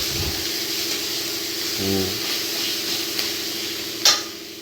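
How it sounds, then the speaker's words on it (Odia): Onion and ginger-garlic paste hit hot oil for a stuffed whole eggplant masala, giving a soft continuous sizzle with a brief stirring scrape and a sharp clink near the end. "ତାପରେ ତେଲରେ ପିଆଜ ଆଉ ଅଦା ରସୁଣ ପେଷ୍ଟକୁ"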